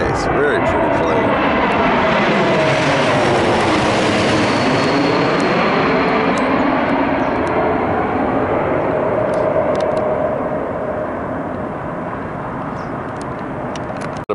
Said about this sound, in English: A big fun one, an Air France A350-900 out of Paris.